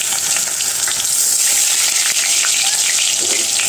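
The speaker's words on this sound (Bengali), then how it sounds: "এখানে তো আলু ভাজা করতে দিয়ে দিচ্ছি, আর এরকম ফেনা উঠতেছে, কারণ হচ্ছে সরিষার তেল দিয়ে রান্না হচ্ছে।" Potatoes fry in foaming mustard oil, a loud, close, steady hiss of sizzling bubbles throughout, with no talk.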